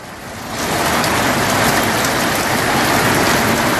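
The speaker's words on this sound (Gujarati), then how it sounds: "ઊંઝામાં ભારે પવન સાથે વરસાદ વરસ્યો હતો" Heavy unseasonal summer rain driven by strong wind in Unjha, Mahesana, a loud dense roar of downpour that surges up within the first half second and stays constant, with no voices.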